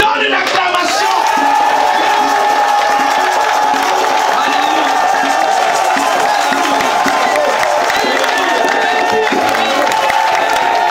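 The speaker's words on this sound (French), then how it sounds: "donne une acclamation" A church congregation raises a loud, continuous acclamation, a dense wash of shouting and cheering voices that holds steady without pause throughout.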